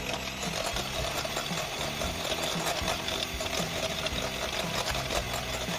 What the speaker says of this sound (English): Start beating the egg whites.